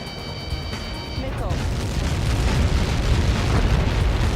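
Huge rumbling explosion on impact in the flight combat game Ace Combat 7, a heavy low roar that builds and sustains for several seconds after a faint beeping, with radio chatter speaking over it.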